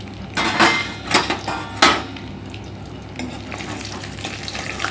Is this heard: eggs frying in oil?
yes